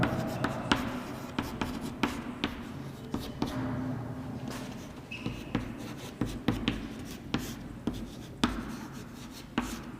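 Chalk or a pen taps and scratches as notes are written during a geography lecture on biome types, in irregular close strokes and clicks, with no speech.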